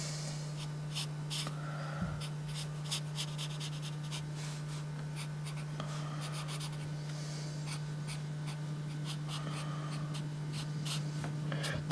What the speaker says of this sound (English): you keep the pen light, you're barely touching the page,